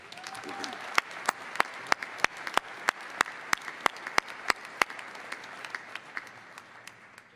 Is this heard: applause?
yes